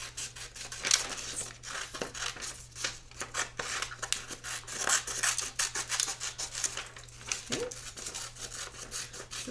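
Scissors snipping and rubbing through paper while cutting out pieces for a shark craft, a close, steady run of crisp cuts and rustles with no talking.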